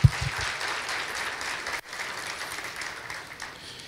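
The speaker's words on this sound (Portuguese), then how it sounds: "Salva de palmas." A church congregation gives a round of applause during a Sunday teaching service, opening with a loud clap and then a dense, steady patter of many hands that cuts out briefly and resumes, fading at the end.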